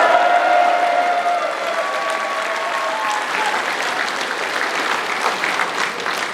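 A crowd at a Korean political party event and inauguration ceremony claps steadily, the dense applause holding at an even level from start to finish.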